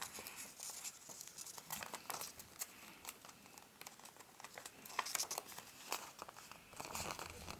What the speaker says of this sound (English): So folding down and then slightly folding it back up, leaving a bit here.